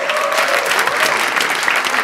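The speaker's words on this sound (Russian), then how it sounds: "Аплодируем Дима Гаврилов на этой сцене. Ваши аплодисменты." Dense audience applause for comedian Dima Gavrilov taking the stage at a roast, a continuous roar of many clapping hands with some crowd noise mixed in, loud and steady.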